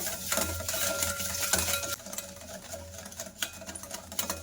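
Sugar being mixed into batter for milk pitha in a bowl, a steady scraping stir with small clinks of a utensil against the dish, close and fairly quiet, with no talk.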